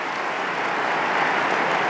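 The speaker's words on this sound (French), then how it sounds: "Je vous demande d'applaudir la nouvelle bienheureuse." Applause from a large crowd at the Angelus in honour of the newly beatified Maria Costanza, a steady, dense wash of clapping that stays even throughout without voices.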